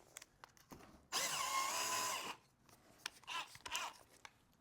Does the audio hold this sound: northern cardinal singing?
no